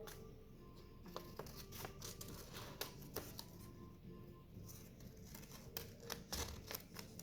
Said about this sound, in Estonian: Jälle käärid, lõikad välja.